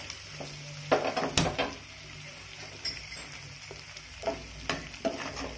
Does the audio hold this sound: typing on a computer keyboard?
no